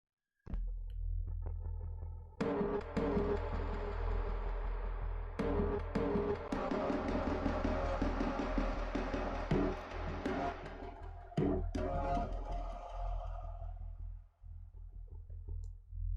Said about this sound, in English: So we have some drums here.